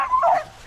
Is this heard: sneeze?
no